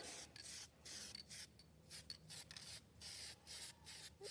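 Soft hissing bursts from a spray can of hair product applied to a market steer's coat, repeated in short irregular pulses with brief gaps, quiet and close, with no talking.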